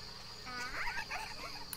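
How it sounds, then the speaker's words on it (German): Mosquitoes in the video game Fable Anniversary give a thin, steady whining buzz that circles at a modest level throughout, with no voices over it. "die blöden Mücken lassen wir da jetzt einfach mal rumkreisen"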